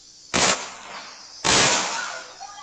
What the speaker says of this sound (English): 2 gunshots.